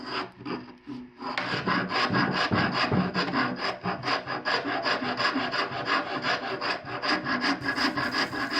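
A half-round rasp shapes the hollow of a wooden paddle grip in rapid, rhythmic rough strokes, close and loud, continuing without pause.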